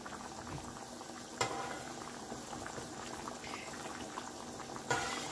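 Okra in red sauce simmering over low heat in a pot, a steady soft bubbling and crackle with a couple of brief louder pops, close and alone.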